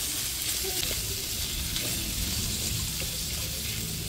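Squid and vegetables sauté in a hot pan, a loud, dense, steady sizzle with hissing and bubbling close up, uninterrupted from start to finish.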